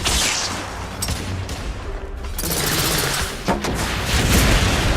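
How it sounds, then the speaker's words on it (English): Suppressive gunfire erupts in a Victorian-era shooter set in alternate-history London, a loud sustained volley of rifle and automatic fire with sharp cracks and booming reports blending into a dense battle roar. "Igraine, lay down suppressive fire!"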